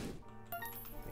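Coins drop in The Binding of Isaac, a brief metallic clink of pickup chimes in the game's audio, moderately quiet, with no talk over it.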